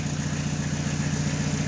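A diesel car engine from around 1995, nearly 30 years old, ticks over at a steady idle, close and loud, its low rhythmic clatter constant throughout with no voices.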